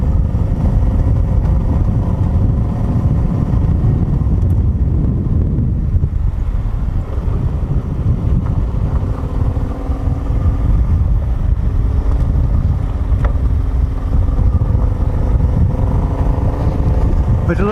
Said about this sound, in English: But the little Tenere, third gear, enough torque to just do this all day long